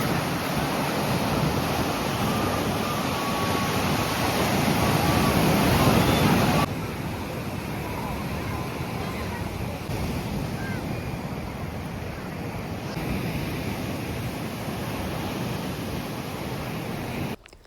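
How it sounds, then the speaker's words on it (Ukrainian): Sea surf on the beach at Sanzhiika, a continuous loud roar of breaking waves mixed with wind buffeting the microphone. "Сьогодні хвилі."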